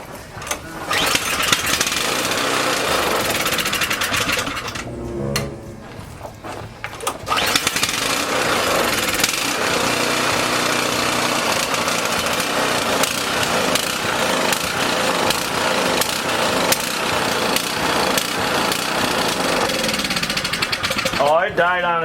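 Pull-start small gasoline engine, rough and failing, sputtering and revving loudly with a brief dip and restart midway before running unevenly, with a person talking over it.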